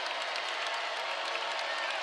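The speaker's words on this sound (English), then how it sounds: "once again, Assembly Hall crowd on their feet" A basketball arena crowd at a women's college game in Assembly Hall cheers and applauds on its feet, a steady wash of clapping and shouting that fills the space evenly from start to finish.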